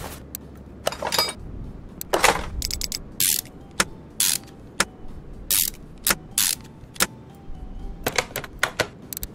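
An air filter being swapped on a car in Car Mechanic Simulator 2021, heard as a string of sharp mechanical clicks, ratchet-like whirs and short clunks coming in uneven bursts, loud and close.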